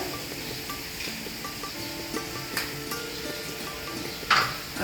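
Steady, close sizzling as ginger-garlic paste hits chicken frying in a pan, a continuous crackling hiss with a few light clicks and one brief louder scrape near the end.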